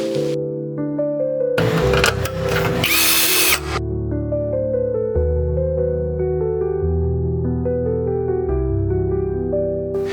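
A power screwdriver drives a screw into the cover box of a zip blind, heard as a loud burst of about two seconds over steady background music.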